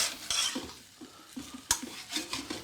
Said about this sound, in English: use those to scrape up any worthwhile stickiness at the bottom of the wok